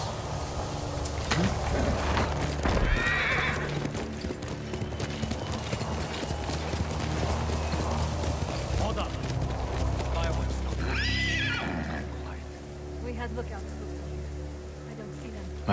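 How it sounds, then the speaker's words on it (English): Horse hooves clip-clopping at a steady gallop in the video game Ghost of Tsushima, with two brief neighs or whinnies rising over the rhythm, over a low ambient rumble. "Horse!"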